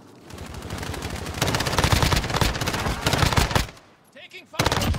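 Sustained automatic gunfire rattles through a Warzone match in long, loud rapid-fire bursts, breaking off briefly before another volley resumes.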